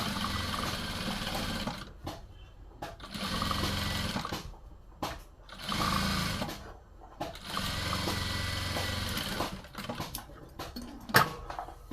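A sewing machine stitches along the edge of a blouse sleeve in several bursts of rapid, steady whirring, separated by short pauses, close and clear with no talking.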